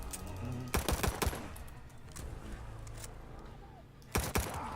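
An MG42 machine gun fires in Call of Duty, with a short burst near the start and another near the end, and faint game noise between them.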